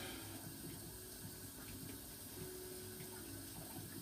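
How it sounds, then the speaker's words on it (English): Hot tap water runs into a kitchen sink during dishwashing, a faint, continuous splashing hiss with little change, heard alone. "So I'm here, I'm washing the dishes."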